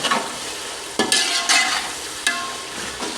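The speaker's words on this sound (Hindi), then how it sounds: "हुण इसके अंदर जा रहे हैं टमाटर। इत्थे हुण टमाटर की बुनाई करसा।" Tomatoes fry in a pan after garlic and ginger for an aloo baingan dish, with a loud, steady close sizzle and a few sharp stirring scrapes at irregular intervals.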